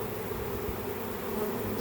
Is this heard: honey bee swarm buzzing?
yes